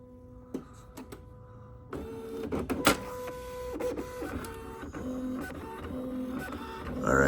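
A Canon BubbleJet BJC 800 color printer running a nozzle check, starting with a few clicks and then whirring and buzzing mechanically in steady bursts as the print head moves and paper feeds, loud and close.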